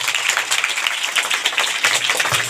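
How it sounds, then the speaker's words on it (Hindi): An audience at a wildlife-conservation event claps steadily for about two and a half seconds, a dense, even patter of many hands with no speech over it. "मैं इनके लिए आपसे जोरदार तालियां मांगूंगा"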